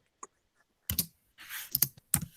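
Computer keyboard typing in a short, irregular burst of clicks and key presses, close and fairly quiet, with pauses between clusters and no voices.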